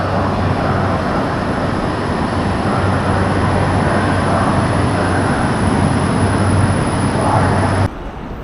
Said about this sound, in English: We're actually going to use the tram.